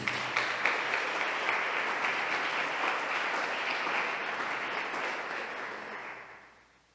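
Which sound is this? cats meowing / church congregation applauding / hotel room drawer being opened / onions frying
church congregation applauding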